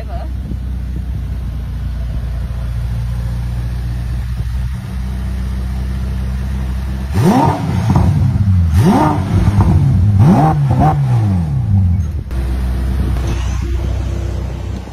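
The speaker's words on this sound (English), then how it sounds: "Let's rev her." Ferrari F8 Tributo engine revved from outside near the rear, a hum at idle jumping into several loud rising and falling blips over about five seconds before settling back to a steady idle.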